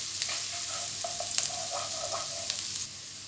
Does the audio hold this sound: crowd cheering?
no